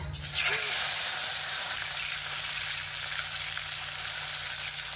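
Pieces of fish frying in hot oil in a wok, a dense steady hiss with a sharper burst at the start that then settles into an even, close sizzle with no talking.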